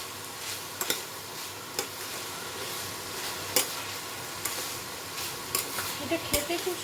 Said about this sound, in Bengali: এবার এর মধ্যে আমি শুকনো করে পিষে রাখা পোস্তটা দিয়ে দেবো।